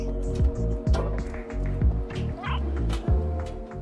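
In the video game Stray, a cat character moves and meows amid a rhythmic game soundscape of repeating thumps and chimes, with short cat-like cries scattered over a looping low beat.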